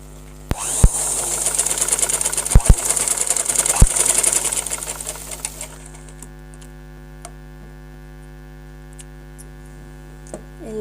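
An electric sewing machine stitches the back ties of a long frock, running in a fast buzzing whir with a few sharp clicks for about five seconds, then stopping and leaving only a low mains hum.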